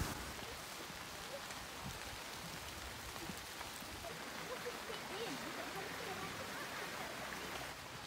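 Steady rain falls on leaves and moss outdoors in Scotland, a soft continuous patter with occasional drips, faint and even throughout, with possible quiet talk.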